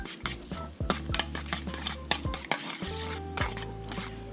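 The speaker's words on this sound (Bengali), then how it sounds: "দিয়ে দেওয়ার পর এই সমস্ত কিছু দইয়ের সঙ্গে ভালো করে এরকম মেশাতে হবে।" A spoon stirs and scrapes around a bowl as yogurt is mixed with salt, baking powder and baking soda for naan puri dough, giving close, repeated clinks and knocks with a brisk, irregular rhythm.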